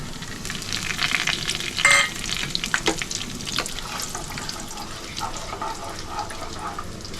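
Cumin, green cardamom, cinnamon pieces and bay leaves sizzle steadily in hot ghee and oil, a continuous close frying crackle with a few sharper pops and stirring clinks.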